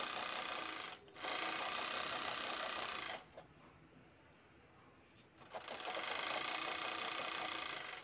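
A sewing machine runs steadily while stitching the side seams of a small girl's dress, a loud continuous whir with a short pause early on and a longer quiet gap before it starts again.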